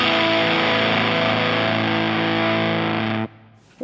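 A Lateral Sound Linda distortion pedal on its Spore circuit with every knob at twelve o'clock gives a thick, saturated, buzzing tone held steadily for about three seconds before cutting off abruptly into near silence.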